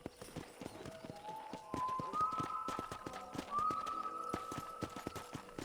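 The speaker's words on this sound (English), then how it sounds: "I picked out a fine horse for you." Horse hooves clip-clopping in Red Dead Redemption, a steady rhythmic run of sharp close hoof taps with an occasional whinny, and a rising whistle-like tone mixed into the background.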